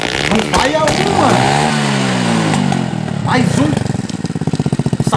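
Motorcycle engine revving hard through its exhaust, loud rising and falling revs with crackling pops, ending in rapid pulsing bursts, while someone shouts over it.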